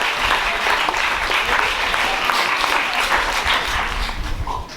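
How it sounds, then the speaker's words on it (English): Audience applause fills a Year 9 poetry slam hall, steady dense clapping from a large crowd sustained throughout, loud and close with no talking over it. "Give yourself another round of applause."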